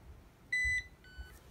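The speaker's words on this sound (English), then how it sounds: "It's doing its lost alarm thing." A Nokta Makro PulseDive pinpointer, left switched off, sounding its lost-item alarm: two short, high electronic beeps close by, the first longer than the second, over faint background hiss.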